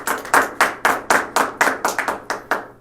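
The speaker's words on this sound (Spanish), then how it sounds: "a quien recibimos con un fuerte aplauso" About a dozen sharp, evenly spaced claps ring out close by at a blessing ceremony for a media centre, welcoming the Apostolic Nuncio in Mexico, with no voices over them.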